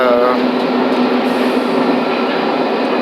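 Steady rumbling train interior noise, a continuous loud roar of rolling carriages with faint rattling throughout.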